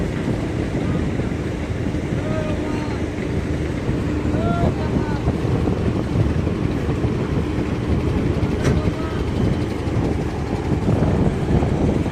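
The passenger launch MV Karnaphuli-14 cruising on its river route from Dhaka to Ilisha, Bhola, with a loud steady engine rumble, water rush and wind buffeting throughout and faint voices in the background.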